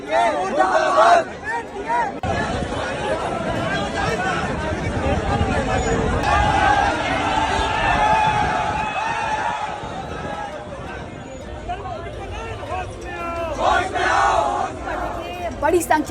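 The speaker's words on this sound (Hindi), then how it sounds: "बड़ी संख्या में छात्रों का ये हंगामा देखने को मिला है" Large crowd of students protesting at a locked CUET-UG exam centre, a dense mass of shouting and chanting voices that stays loud and continuous throughout, with no break in the noise.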